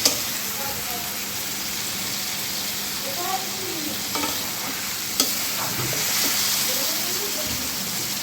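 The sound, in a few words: sour green mango dish being cooked and stirred in a pot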